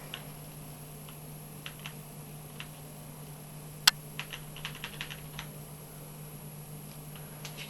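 Soft, scattered keystrokes on a computer keyboard just plugged into a PC during game device setup, irregular light clicks close up with one sharper tap midway, no talking.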